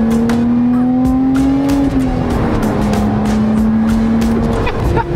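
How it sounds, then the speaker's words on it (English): A modified car is driven hard, its engine and exhaust droning loud and close with a steady tone that shifts pitch slightly, punctuated by sharp pops and crackles throughout. "I mean, the car sounds good,"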